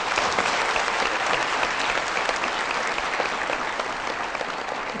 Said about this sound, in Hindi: बहुत सारी तालियां शाहरुख के लिए।